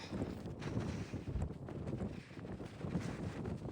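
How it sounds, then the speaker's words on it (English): Gusty wind buffeting the microphone in uneven rumbling bursts at a mountain summit in Sequoia and Kings Canyon National Park, close and loud, with no voices. "Super windy."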